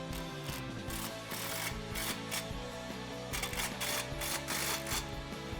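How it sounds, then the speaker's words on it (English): A ratchet turns a 15 mm socket to tighten an exhaust band clamp on a 2008-2014 Dodge Challenger 5.7L HEMI. Rapid, close, repeated clicking comes in bursts with brief pauses between strokes. "grab your 15 socket and tighten that down"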